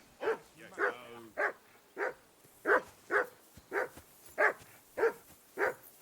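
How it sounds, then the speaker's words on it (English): A dog in the medieval game Kingdom Come Deliverance 2 barks in a steady series of about ten sharp, evenly spaced woofs, fairly close and clear. "Mutt, calm down. Why are you barking at him?"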